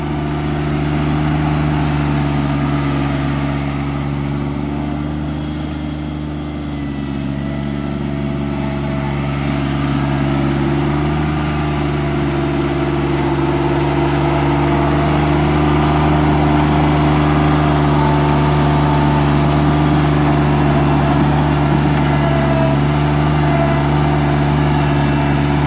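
A John Deere X595 garden tractor fitted with a bucket loader runs steadily while stripping sod and digging out gravel, its engine a continuous loud, even drone with a slight dip partway through and no talking.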